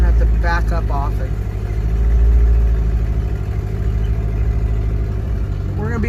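A car cruising slowly in a circle around a home driveway, its engine humming steadily at low revs and close by, with a person talking over it throughout.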